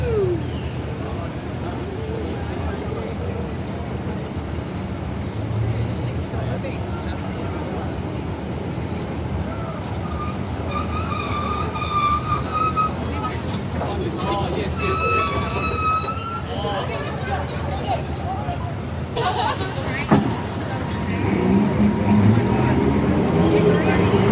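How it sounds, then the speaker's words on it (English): A W class tram runs at Southern Cross Station with a loud rolling rumble and high wheel squeals, people talking over it throughout. "there's actually a W class running here"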